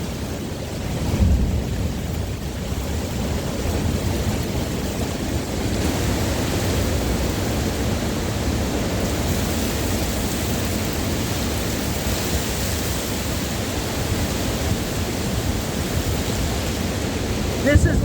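A severe thunderstorm in Cleveland pours heavy rain with gusting wind, a dense, loud, steady roar that fills the whole clip, with a faint low rumble early on.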